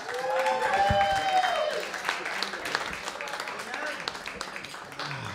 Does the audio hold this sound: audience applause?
yes